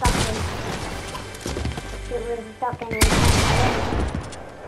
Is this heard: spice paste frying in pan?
no